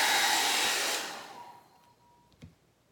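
A hair dryer blows loudly on acrylic pour paint during a small Dutch pour, then cuts off, leaving a faint hum and one small clack in the near silence.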